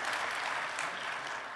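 An audience at a conservative political conference applauds, a brief, dense wash of clapping at a steady, moderate level with no distinct cheering voices standing out.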